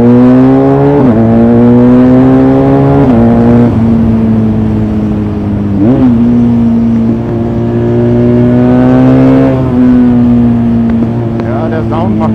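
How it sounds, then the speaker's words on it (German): A BMW R1250RS motorcycle engine on a test ride pulls loud and close, with its drone rising and falling through several gear changes in a steady ride-along recording. "Hier kleiner BMW Testride."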